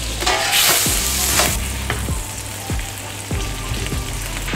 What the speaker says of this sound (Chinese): 將啲雞咧煎到變曬金黃色